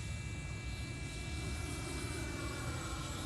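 An FMS Avanti 90mm electric ducted fan RC sport jet in flight gives a steady, continuous whooshing whine with no voices, holding an even level throughout.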